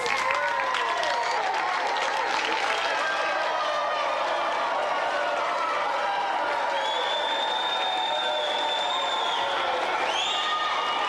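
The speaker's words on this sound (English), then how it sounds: "Come on down, give him a round of applause." A game show studio audience claps continuously for several seconds, thick applause with cheering and a few whistles rising over it.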